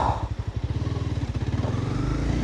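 Motorcycle engine idling with the clutch pulled in on a forest trail, a steady rapid low putter running throughout with no vocal overlay.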